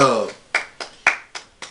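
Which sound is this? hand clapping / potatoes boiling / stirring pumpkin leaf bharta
hand clapping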